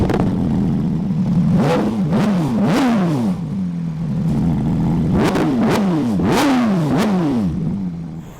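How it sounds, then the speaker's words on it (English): Porsche GT3 with an aftermarket exhaust firing up, then revving in a series of sharp, loud blips that rise and fall close by, with a brief idle between bursts. "Now that is one good sounding Porsche"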